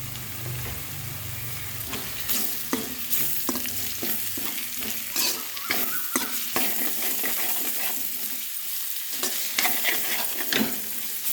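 Raw mango pieces frying in a pan while being stirred, a continuous sizzle broken by frequent scraping clicks of the spoon against the pan, close and steady.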